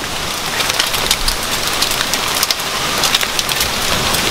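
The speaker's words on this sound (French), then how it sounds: "en fait on a une tempête de grêle quoi" Dense, loud patter of hail hitting a balcony garden, a constant hiss of many small impacts with no voices.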